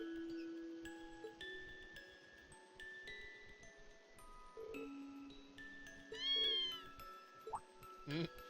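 A cat in Trails of Cold Steel gives a few short meows amid soft, tinkling game music, fairly quiet and close, with a brief higher cry near the end.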